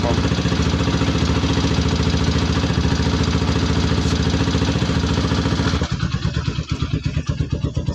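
A motorcycle engine runs continuously as a makeshift generator powering an inverter through an extension cord. It gives a loud, steady, rhythmic idle that shifts slightly toward the end.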